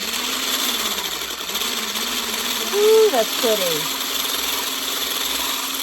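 A handheld frother whips up a spiced pumpkin latte with a steady, close motorized whir that runs the whole time, while a voice briefly speaks over it.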